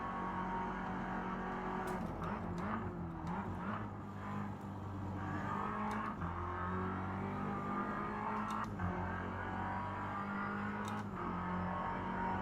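Engine of a race car in a racing sim game, a continuous droning tone that rises and falls through gear changes and throttle lifts, with the revs climbing steadily between shifts and no voices over it.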